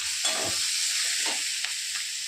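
Masala roasts in a hot pan with a constant sizzling hiss, broken by a few soft scraping stirs.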